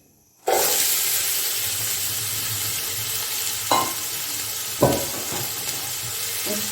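Onions drop into about three cups of hot oil for chicken biryani and burst into a loud, steady sizzle, close by, with a few stirring clunks against the pot.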